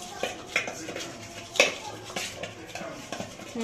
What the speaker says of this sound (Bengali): ঝালের গুঁড়োটা দেবো তো দিয়ে মিশিয়ে নেবো একটু